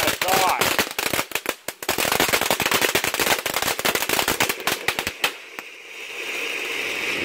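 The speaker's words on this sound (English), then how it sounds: "This is actually way louder than I thought." A crackling firework fountain bursts in a loud, dense volley of rapid pops and snaps for about five seconds, then thins into a fading hiss. Close and very loud, with a person's excited exclamations mixed in.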